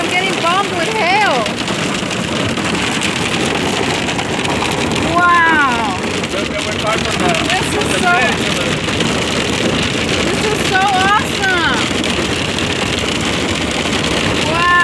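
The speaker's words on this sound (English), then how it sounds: "Look at all that hail." Hail pounds down in a storm in Menifee, a dense, continuous drumming roar that fills the whole stretch while excited voices talk and exclaim over it.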